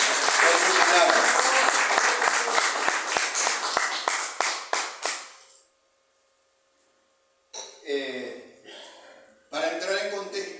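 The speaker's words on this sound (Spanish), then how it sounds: "Venimos a dar un aplauso al Señor" A church congregation claps loudly and continuously for about five seconds, then the clapping thins and stops. After a short silence someone speaks.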